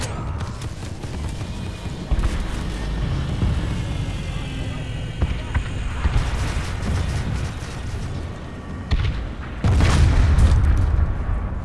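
Booming rocket explosions from players rocket jumping in a video game, a series of loud blasts and thuds with a heavy burst near the end over continuous game noise, with occasional voices mixed in.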